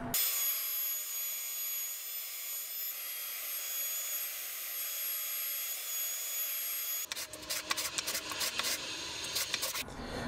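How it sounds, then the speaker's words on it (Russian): Stationary belt sander shaping a wooden block, a loud steady rushing whine with a high tonal hum that shifts into rougher, scratchy grinding as the wood is pressed against the belt near the end. "сейчас придам ей форму при помощи ленточной шлифмашины"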